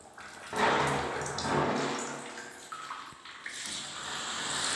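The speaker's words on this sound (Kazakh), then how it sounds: "Қосылды. Су кетіп жатыр." Water gushing from a pump hose, a splashing rush that starts abruptly, surges and wavers, then keeps flowing steadily nearby.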